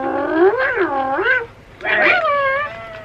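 Roarin' Tyler, a For Real Friends toy tiger, lets out two loud, wavering electronic growl-roar cries, each about a second long, with a short pause between them and no talk.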